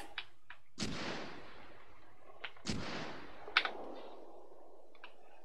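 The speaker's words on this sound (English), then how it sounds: "So we're going to get pinned down between mortar fire or small arms fire" Mortar and small arms fire in the video game Arma 3: two heavy booming blasts with long rumbling tails, interspersed with sharper scattered gunshots, fairly distant and alone.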